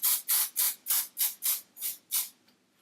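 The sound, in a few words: hairspray being sprayed on hair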